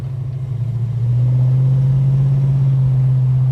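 Holden HK car engine and exhaust while driving, a steady low droning note that swells slightly after the first second and then holds even and fairly loud, with no voices.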